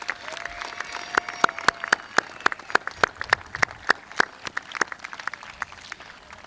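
Scattered applause from the audience at a high school commencement ceremony: sharp, distinct hand claps in a steady, fairly sparse patter that carries through the whole stretch, heard at a moderate distance in a large hall.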